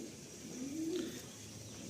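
Madrasi pigeons coo softly at close range, one rising, drawn-out call standing out over a low, steady background hum.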